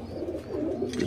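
Pigeons in a breeding loft giving low, throaty rolling coos, a soft repeated murmur close by and alone without speech.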